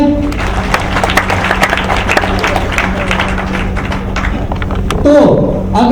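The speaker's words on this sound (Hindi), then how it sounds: "क्लियर, जरा अपने तालियां बजाएं।" A classroom of students applauds, with dense scattered clapping that runs steadily throughout and ends in a brief burst of noise.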